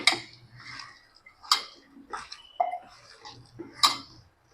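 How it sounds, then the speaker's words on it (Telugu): Chicken pieces are mixed with turmeric in a bowl, giving a few light, close clinks and soft scraping knocks spaced irregularly over a quiet background. "కొద్దిగా పసుపు ఇట్లా బాగా మిక్స్ చేయాలి"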